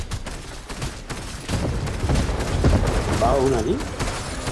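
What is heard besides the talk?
gunfire in a shooting video game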